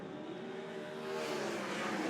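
Sprint cars roar around Central Motor Speedway in a Grand Prix heat, a dense, steady engine drone heard from a distance that swells slightly louder midway as the pack pushes on.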